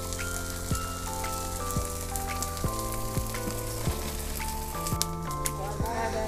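Gond, an edible gum, frying in oil in a kadhai for a desi winter dish, giving a steady close sizzle with crackling pops throughout, while occasional tonal noises sound underneath.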